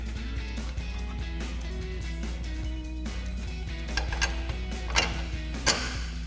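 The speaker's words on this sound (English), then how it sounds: "And tighten it up with our 21mm socket and our 21mm wrench." A ratcheting socket and wrench tighten a Jeep Gladiator shock mount bolt, a rapid run of small regular ticks under a steady low hum, with a couple of louder clicks near the end.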